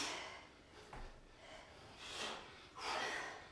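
Heavy breaths exhaled during a tabata workout, three or four forceful close puffs of air at uneven intervals, fairly quiet overall.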